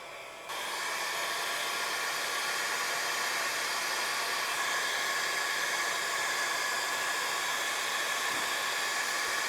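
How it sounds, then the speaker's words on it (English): A Porter-Cable heat gun shrinking heat-shrink tubing onto wires switches on and blows with a steady, loud, close whooshing roar that holds without change, no speech. "or our Porta-Cable heat gun here"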